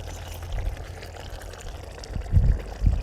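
Tamarind water pours into a pot for a chicken pulusu, a short, close liquid splash and trickle with a couple of heavier glugs toward the end.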